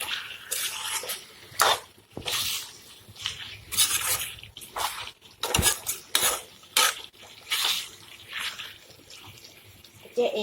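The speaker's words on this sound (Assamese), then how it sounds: "এতিয়া এইখিনি মই এনেদৰে লৰাই মই মছলাখিনি ভাজি ল'ম" Mutton and potatoes with spices stirred in a pot, a metal spoon clanking and scraping against the sides in irregular bursts, with wet squishing between strokes and no talk.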